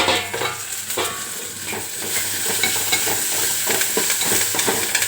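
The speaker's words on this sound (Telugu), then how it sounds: "కాకరకాయ వేపుడు వేగుతుంది." Bitter gourd pieces with onions, curry leaves and green chillies sizzle steadily in a pan while a utensil stirs and scrapes through them, a continuous close frying hiss with soft repeated stirring knocks and no talk.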